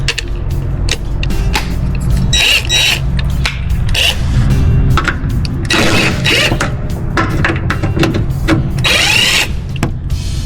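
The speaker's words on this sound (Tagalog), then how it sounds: "I-ano natin, i-rattle gun natin." A rattle gun (impact wrench) drives bash plate bolts on a Suzuki Grand Vitara, giving bursts of loud mechanical hammering close by over a steady background rumble.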